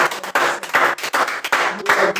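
A church congregation claps and cheers in praise during a worship service, bursts of broadband clapping and voices coming in uneven waves with brief dips between them, fairly loud and close.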